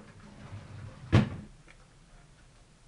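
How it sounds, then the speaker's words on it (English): A drawer pulled open at a makeup table, heard as a single short knock-like thump midway through a quiet room. "let me reach in my drawer here"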